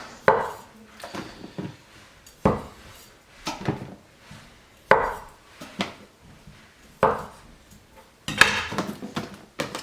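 New British potatoes chopped with a knife on a board, a series of sharp separate cuts spaced a second or two apart, close and fairly loud with light clattering between them.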